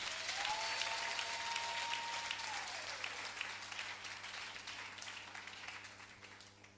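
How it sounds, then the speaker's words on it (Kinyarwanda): A church congregation claps in sustained applause that gradually thins and fades, with a faint whistling tone rising and holding briefly near the start. "Komera Imana amashyi menshi."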